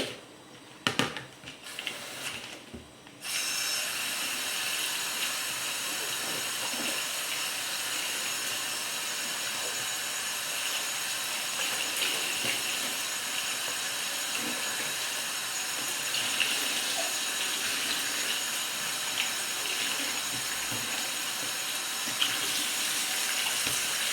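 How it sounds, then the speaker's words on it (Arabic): A kitchen tap runs steadily into a sink while zucchini and eggplant are washed, a continuous close splashing hiss after a few brief knocks and bumps at the start. "هلا لبين ما ينتقع معنا الرز بدنا نغسل الكوسة والباذنجان"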